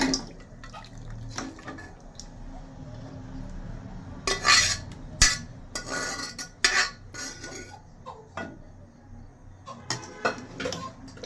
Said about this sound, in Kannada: ಬೇಯಿಸಿರೋ ಚಿಕನ್ನ ಇದಕ್ಕೆ ಹಾಕ್ತಾಯಿದ್ದೀನಿ ನೀರು ಸಮೇತ.